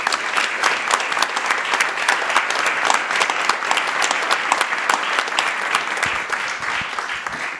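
A large audience at the Cité de la réussite event in Paris applauds the organisers in steady, dense clapping that holds at an even level throughout.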